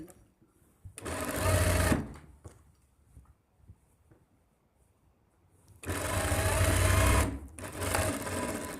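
Sewing machine stitching the cuff of a sleeve: two loud, close runs of rapid steady whirring, the first short and the second longer with a brief pause, separated by quiet handling noises.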